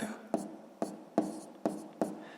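A pen writes a maths solution by hand on paper in five sharp, evenly spaced strokes, close and fairly quiet, with no speech over them.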